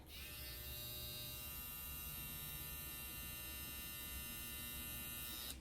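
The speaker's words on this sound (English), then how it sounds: "Yeah, very quiet trimmer." Matsui Classic M electric hair trimmer running alone, a steady close-up high-pitched buzz lasting the whole clip without a break.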